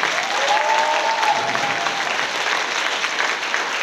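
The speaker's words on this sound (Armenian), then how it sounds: "որ շատ բարձր ծափահարենք մեր մասնակիցներին։" An audience at a Miss Student 2023 pageant gives the contestants a dense, steady round of clapping from a large crowd. The applause holds at an even, loud level throughout, with a brief faint whistle or squeal early on.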